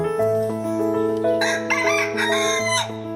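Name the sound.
rooster crowing on a poultry farm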